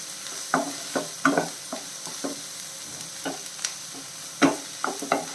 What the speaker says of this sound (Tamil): கிளறி விட்டுட்டே இருக்கணும் பாருங்கள் வெங்காயம் வந்து வதங்கிடுச்சு நல்ல ப்ரௌன் கலர் ஆகிடுச்சு